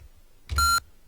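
A single short electronic beep sounds from a TI-99 sprite editor as its copy command runs, a bright tone lasting about a quarter second against near silence.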